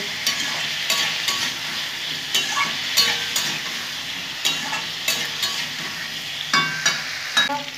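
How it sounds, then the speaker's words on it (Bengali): Food fries steadily in a pan with a constant bright sizzle, broken by rhythmic scraping and stirring strokes of a spoon every second or so. "এখন ভাজা ভাজা করে নেব, খুব ভালো করে আমি নেড়ে চেড়ে নেব।"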